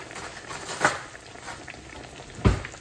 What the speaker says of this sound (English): Deep frying this fish.